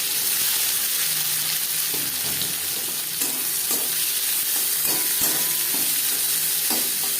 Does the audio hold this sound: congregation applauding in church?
no